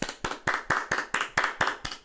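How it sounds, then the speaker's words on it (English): Roughly nine sharp hand claps in a steady, even rhythm over about two seconds, close and dry, with no other sound between them. "Why you clapping?"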